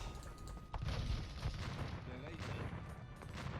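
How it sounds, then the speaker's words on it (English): Scattered booms and sharp blasts of bombard cannons in a video game go off repeatedly amid a busy battle din, some near and some distant. "And cannons going all around the map."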